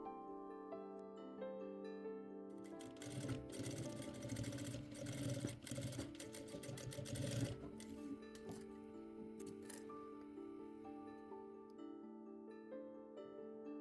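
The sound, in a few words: sewing machine stitching corset seam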